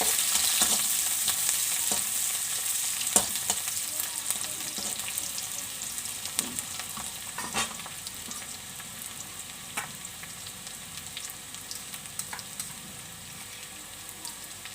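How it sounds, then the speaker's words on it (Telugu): Onion and a bay leaf frying in oil for a bottle gourd kofta dish, a steady close sizzle with crackly bursts and occasional stirring scrapes throughout, no voices. "అలాగే ఒక తేజ్పత్తాకు ఒక ఉల్లిపాయ కాస్త ఫ్రై చేస్తాను"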